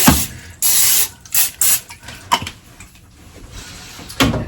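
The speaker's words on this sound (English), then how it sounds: "I spray it with a little bit of cooking oil, or cooking spray." Several short, loud bursts of spray hiss close by, separated by brief pauses and quieter handling noises.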